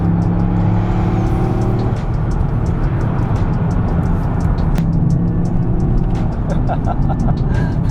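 A Toyota GR Yaris engine roars steadily from inside the cabin, loud and continuous, with a rough mechanical drone and occasional clatter.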